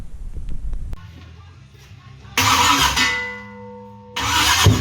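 A rebuilt small block Chevy V8, powered by an old tractor battery, starts up: a quiet lead-in, then a sudden loud roaring burst that holds for over a second, drops off, and surges again.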